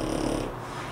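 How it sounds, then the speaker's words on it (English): A dog gives a short, close, raspy snort with a rough breathy rumble under it that fades within a second. "This dog is so rude."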